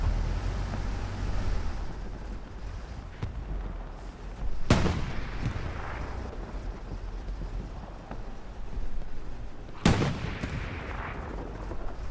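Tank cannon shots in Hell Let Loose, two sharp loud booms several seconds apart, each with a rolling tail, over a steady rumble of battlefield ambience.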